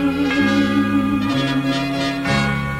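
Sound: temple bell ringing

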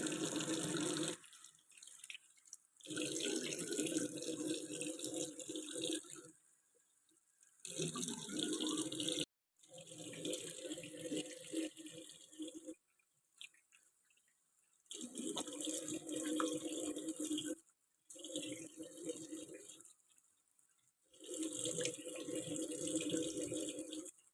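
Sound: washing soapnut pods under running tap water

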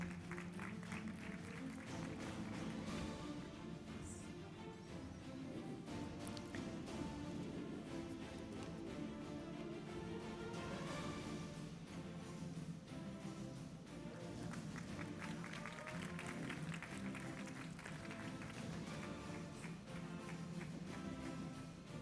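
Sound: audience applause for a trophy presentation

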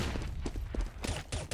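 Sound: gunfire in the video game Counter-Strike on de_dust2

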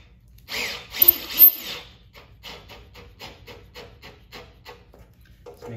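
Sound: driving a screw down during treadmill assembly

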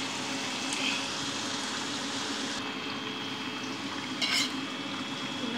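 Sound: mixing half-cooked rice with vegetables in a pan

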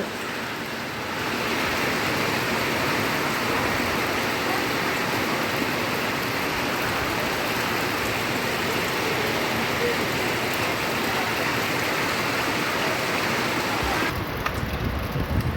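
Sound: heavy rain falling on a thatched roof

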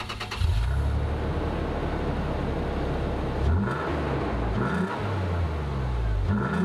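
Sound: 2nd gen Toyota Tacoma engine revving with Dynamax muffler

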